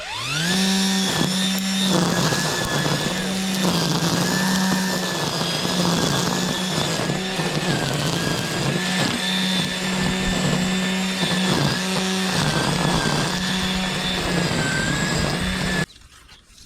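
A Ryobi 40-volt brushless battery string trimmer, a 2020 model, runs with a steady, close, high-pitched motor whine for about sixteen seconds before cutting off.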